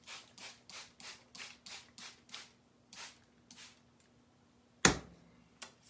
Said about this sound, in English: we're going to scrape it up a little bit and then clean it off with one of our board erasers